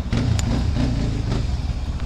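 Yamaha Banshee 350 ATV engine running rough with a suspected failed piston or no spark, a close, uneven low rumbling idle with irregular throbbing pulses.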